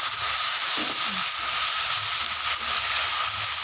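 Coriander seeds and rock salt sautéing in a pan for Tamil varamalli chutney give off a steady, even hiss of sizzling that stays loud and unbroken from start to finish, with no talk.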